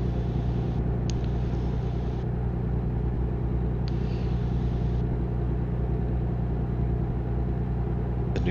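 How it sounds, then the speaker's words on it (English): A Cummins diesel engine in an upgraded truck in American Truck Simulator drones steadily, a constant low rumble with an even hum throughout and no speech. "The new diesel with the new engine in it, the new Cummins in it, and the transmission is smooth."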